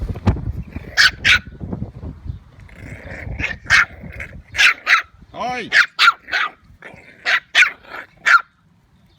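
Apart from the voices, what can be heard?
puppies barking while playing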